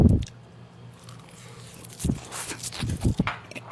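Spicy food wrapped in nori is bitten and chewed close to the mic, with a few crisp crunches and soft wet chews after a quiet pause.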